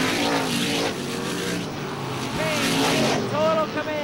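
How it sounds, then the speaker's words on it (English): Supermodified race cars roar at speed at Star Speedway in 1996, their engines loud and sustained with pitch shifts as they pass, under an announcer's race commentary. "Payne in total command now, out of turn four, taking the checkered flag in Payne."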